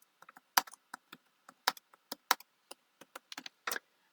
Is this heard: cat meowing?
no